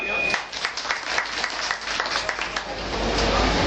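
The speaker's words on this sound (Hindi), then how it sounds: "इनके लिए तालियां।" Audience at an event clapping for a series of honored named guests: a steady, dense wash of applause that carries on throughout, fairly close and full.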